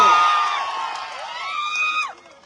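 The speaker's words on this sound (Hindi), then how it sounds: "जोरदार तालियों से" A crowd at an Indian political party gathering in Solapur cheers with rising whoops and shouts, loud at first, swelling again and then dropping off, with no clear clapping.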